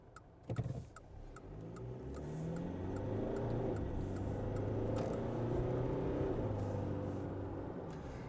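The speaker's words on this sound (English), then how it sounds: "So what's the acceleration like from the Triton?" Mitsubishi Triton pickup accelerating from inside the cab, the engine note rising steadily in a smooth continuous drone after a brief clunk at the start, with faint ticking in the background.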